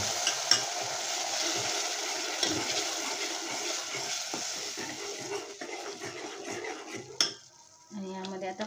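Lentils tipped into roasted masala in a hot pan, giving a steady sizzle with stirring and utensil scrapes against the pan, ending in a short louder clatter.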